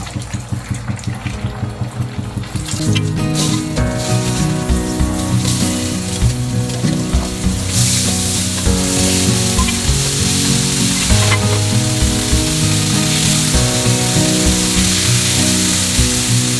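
Chicken pieces on their second fry in boiling oil for crispy chicken in sweet chili sauce, with a steady loud sizzle and bubbling throughout, after a quieter opening couple of seconds, with no talking.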